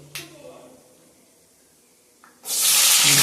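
Chopped onions hit a hot pan for mushroom gravy, setting off a loud, steady sizzle that starts abruptly partway through and holds to the end, after a quiet stretch with faint kitchen noise.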